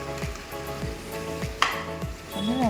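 Fried potatoes tipped into a chicken curry cooking down in oil, steady sizzling with repeated spoon scrapes and a sharper clatter as the pieces go in, close and fairly loud.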